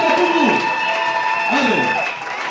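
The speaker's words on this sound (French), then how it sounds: "acclamons très fort le Seigneur" A church congregation applauds the Lord, a dense, continuous wash of clapping and cheering voices with a preacher's voice calling out over it.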